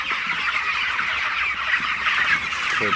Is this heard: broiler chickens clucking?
yes